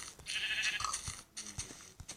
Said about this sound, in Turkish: Şu koyunlara bak. Resmen koyun cenneti.